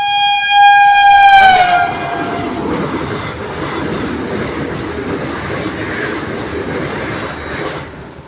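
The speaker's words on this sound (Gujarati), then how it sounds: "ટ્રેન નડી ગઈ રસ્તા." A train passes and blocks the road at a crossing: a loud horn blast opens, then the steady rumble and clatter of rail cars rolling past close by, with no talk.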